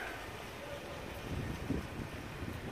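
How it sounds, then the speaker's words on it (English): Steady rumbling wind buffets the microphone, a broad gusty roar with brief swells and no clear voice. "Sorry about the wind."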